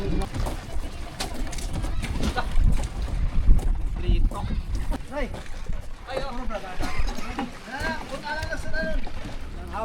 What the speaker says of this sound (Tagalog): Bulanti ng makina.